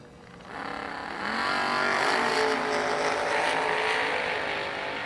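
A drag racing car launches hard down the track, its engine roar swelling quickly after a brief quieter start into a loud, sustained, gritty blast that holds steady to the end.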